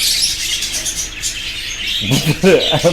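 A budgerigar and a young cockatiel it raised chirp and call indoors, bright high twitters running throughout, with a louder burst of warbling, squawky calls in the last second.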